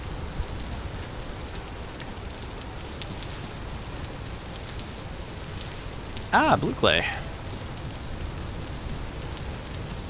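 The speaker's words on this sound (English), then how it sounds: "It's a shame it's raining. It's always raining." Continuous rain pattering in the survival game Vintage Story, a soft steady hiss beneath someone talking briefly, with a couple of short game sound effects near the end.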